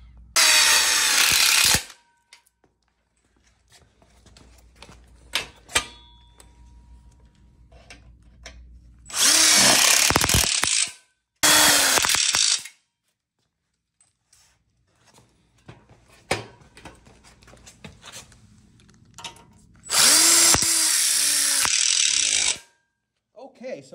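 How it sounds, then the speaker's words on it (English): Power drill driving screws into a ConnecTubes coupler for an outdoor kitchen corner module, three long loud whirring bursts separated by clattering handling noises and faint background sounds. "See how he screws nice and close to the end here, getting the coupler."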